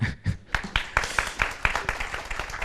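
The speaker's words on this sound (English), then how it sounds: "yeah, you can applaud" An audience at a facilitation ceremony for V.V. Sundaram and Shri Krishnamurthy of Sri Partha Swamy Sabha, at a Suka Nrithyam event, claps in scattered, irregular hand claps that build into uneven applause, fairly close and moderately loud.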